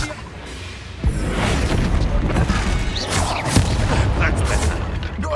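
Confringo blasting spell explosions in the video game Hogwarts Legacy, a sharp blast followed by a dense, rumbling stretch of bursts and crackling impacts, with a second strong hit midway, loud and close.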